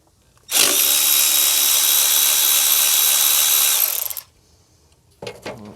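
Power tool removing 10 mm bolts on a Honda Accord during oil pan gasket and spark plug work: one loud, steady whir of about three and a half seconds, then a short rattle of mechanical handling.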